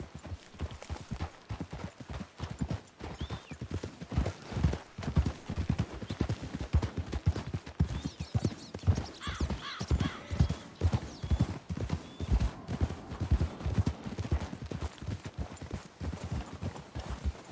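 Horses trot in Red Dead Redemption, their hooves clip-clopping in a fast, steady rhythm that runs throughout, with a horse whinnying faintly in the background.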